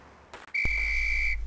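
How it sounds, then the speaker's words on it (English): A sharp whistle blast signalling the start of a combat drill in the 1995 game Police Quest: SWAT, one sustained shrill tone lasting under a second, loud and alone after a brief thump. "On the whistle."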